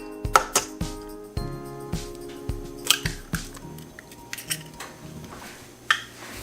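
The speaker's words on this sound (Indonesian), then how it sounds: "Kita ambil telur, masukkan telur satu persatu." Eggs going one at a time into cheesecake batter in a bowl, marked by a series of sharp, ringing clinks against the bowl at a steady pace, close up with quiet stretches in between.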